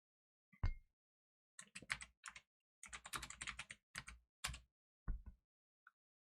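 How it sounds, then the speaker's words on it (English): Fingers type on a computer keyboard in irregular bursts of close, crisp keystrokes separated by short pauses, with a single stray tap at the end. "What am I typing in?"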